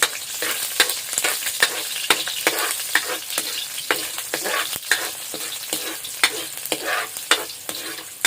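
Garlic frying in hot oil in a pan, a loud, dense crackling sizzle close up, with rapid repeated pops and spatula scrapes throughout.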